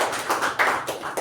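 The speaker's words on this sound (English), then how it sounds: "A huge round of applause for Toastmaster Apoorva and Toastmaster Mamatha." Applause at a Toastmasters club meeting, a short burst of close, fairly loud clapping from a small group, no speech over it.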